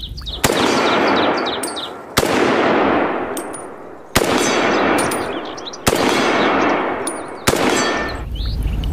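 Five sharp electronic toy-gun bursts from a toy Remington cowboy gun, each a loud crack followed by a decaying rattling zap, spaced about two seconds apart.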